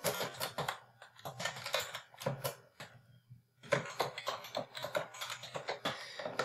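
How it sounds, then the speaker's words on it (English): Fingers type a title on a computer keyboard in a library search, a quick run of light key clicks with a short pause partway through, close and fairly soft. "And I'm going to type in my title."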